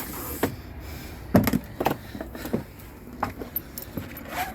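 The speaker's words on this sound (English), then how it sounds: "The door itself just closes using the handle, and we've got a lock button there to lock the door in place." Habitation door of a 2012 Hymer 654 SL Star Edition motorhome being closed by its handle and locked with a button: a few soft thuds and clicks over a quiet background.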